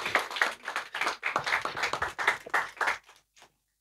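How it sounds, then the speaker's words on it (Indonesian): An audience at a Riau Malay art and culture talk claps steadily for about three seconds, a dense patter of many hands that fades out into a few last claps. "tepuk tangan lah dulu"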